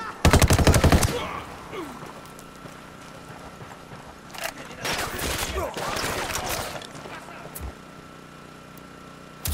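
Gunfire rattles in Ghost Recon Wildlands: a fast, loud burst of automatic shots opens, then further volleys of mixed gunfire follow several seconds later amid background game noise, with a voice briefly audible.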